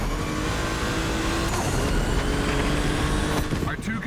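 Race cars circling a track in The Crew Motorfest, including a Volkswagen, produce a steady, loud engine drone that swells briefly near the end as a car passes close.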